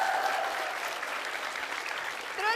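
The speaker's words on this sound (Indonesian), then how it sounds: "tepuk tangan dulu untuk kelompok Darmis" An audience applauds a performing group on a comedy stage, with steady, dense clapping throughout and a brief voice near the end.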